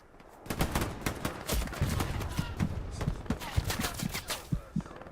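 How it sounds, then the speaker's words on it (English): Machine gun fire rings out in a Hell Let Loose match as rapid, uneven bursts of shots at moderate distance, with voices talking over the shooting. "There's an MG down the road to the east"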